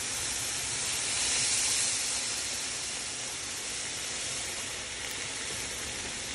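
A loud, continuous sizzling hiss as water hits chile colorado sauce in a hot pan, holding steady close up with no talking.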